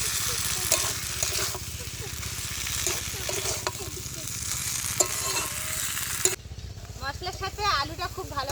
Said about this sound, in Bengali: মশলার সাথে আলুটা খুব ভালো করে কষিয়ে নিয়েছি।